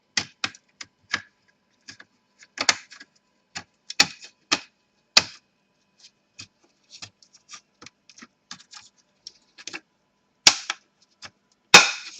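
Plastic clips on an HP ProBook 450 G1 laptop case snapping as the case is pried apart: a sparse series of sharp, close clicks and small cracks spread irregularly across the stretch, in a quiet room.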